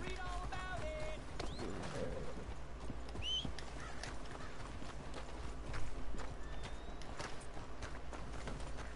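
Horse hooves clip-clop at a steady walking rhythm in the Red Dead Redemption game, close and moderately faint, with an occasional whinny, bird calls in the background and brief speech.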